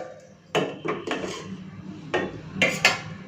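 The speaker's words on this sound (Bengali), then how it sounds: "তো এখন বেড়ে নিচ্ছি ভাত।" A serving spoon knocks and scrapes against a plate and pot as hot steaming rice is served, giving several sharp close clinks spread across a quiet kitchen background with no talk.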